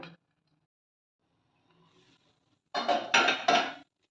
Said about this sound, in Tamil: அடுப்பை சிம்மில் வச்சுட்டு மூடி வச்சிடலாம்